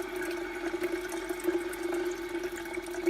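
Tap water runs steadily into a kettle at a kitchen sink, a continuous close hiss and splash with a steady tone, alone without talk.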